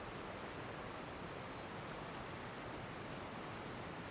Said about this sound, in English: I love the sound of the waterfalls though.